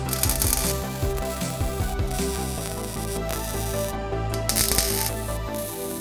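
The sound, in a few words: welding chopper motorcycle part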